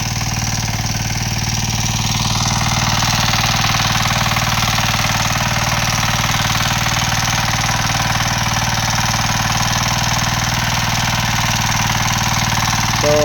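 A small hand tractor engine chugs loudly and steadily at close range during field preparation on a farm, a constant rattling, knocking drone with no voices.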